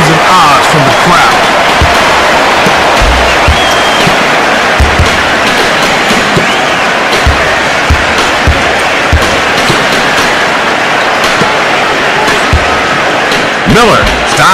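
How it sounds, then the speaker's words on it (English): An NBA arena crowd at a Memphis versus San Antonio game, a steady roar with swelling oohs and aahs after a block by Gasol, sneaker squeaks and ball bounces underneath, while a commentator talks over it. "A big-time block is always good for some oohs and ahs from the crowd."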